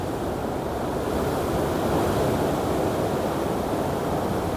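Sea waves wash steadily onto a beach at Khao Lak, Phang Nga, Thailand. They make a continuous loud roar of surf, with wind rushing across the microphone.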